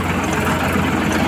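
A mini tractor engine runs, a steady low rumbling drone heard up close, continuous and unchanging over the short stretch.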